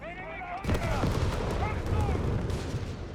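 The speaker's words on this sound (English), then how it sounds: "Mortar there continues to just lay down heavy fire there against Zulu's positions" Mortar and gunfire from the Company of Heroes 3 video game start with a sudden heavy boom, followed by sustained crackling fire and impacts, while a commentator talks over it.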